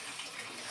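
Steaming hot water pours over dishes in a kitchen sink as a steady, close rushing hiss with no breaks.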